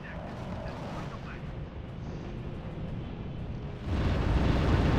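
Bombs from a bomber wave burst over a Dutch city in the strategy game R.U.S.E., a dense, rumbling barrage of blasts that swells louder near the end amid constant battle din.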